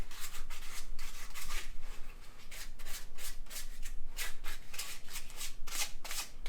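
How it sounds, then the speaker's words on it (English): Hand sanding cleans up the edges of a handmade leatherworking tool, a steady run of brisk back-and-forth gritty rubbing strokes, close and continuous without speech. "now I'm just gonna finish sand it. And this is just cleaning up the edges."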